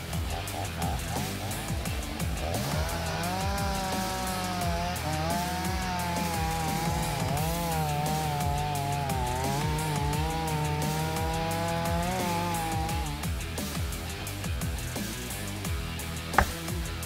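A chainsaw cuts into a tree during logging, its engine holding a steady, sustained drone that wavers in pitch as the chain bites, heard continuously at moderate distance with a brief sharp knock near the end.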